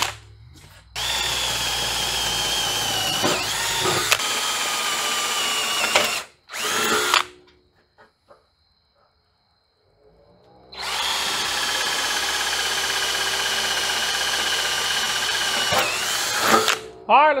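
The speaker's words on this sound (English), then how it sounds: "Got my drill bit ready. Let me get these drilled" A power drill bores holes through shop walls during an insulation job, with two long, loud whirring runs split by a quiet pause, a short burst between them, and bits of speech heard over the drilling.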